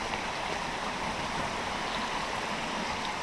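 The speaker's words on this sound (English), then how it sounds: "This place is one of the waterfalls we're stopping at, and it's a waterfall in a cave." Cave waterfall in Bali, a constant loud rushing hiss of falling water that fills the space without pause or change.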